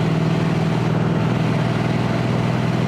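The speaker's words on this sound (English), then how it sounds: "rumble of the engine." Motorcycle engine rumble heard while riding on twisty roads on a sunny day, a loud, continuous low drone with steady wind roar over it and no break.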